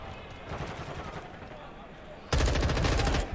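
Video game gunfire from Call of Duty Modern Warfare 2 bursts in as loud rapid automatic shots partway through, after quieter game sounds, with talk overlapping.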